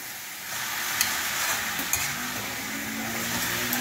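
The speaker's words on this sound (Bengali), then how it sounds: "নাড়াচাড়া করে খানিকক্ষণের মধ্যে, কয়েক সেকেন্ডের মধ্যেই হয়ে যাবে মেথি শাক ভাজা" Fenugreek greens frying and being stirred in a pan with a little sugar and a splash of water: a continuous close sizzle with soft scraping and occasional light clinks of the spatula against the pan.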